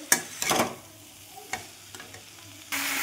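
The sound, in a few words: stir-frying katla fish head and vegetables with spices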